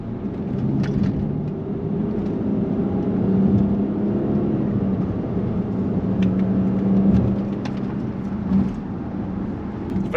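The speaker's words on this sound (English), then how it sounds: "So the currently doing 30 mile an hour. I put the gearbox into sport mode." A Range Rover Vogue driving at 30 mph with the gearbox in sport mode, heard from inside the cabin as a steady low road and engine rumble with faint rattles and bumps, no talk.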